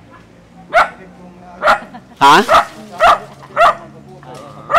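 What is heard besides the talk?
dog barking on a farm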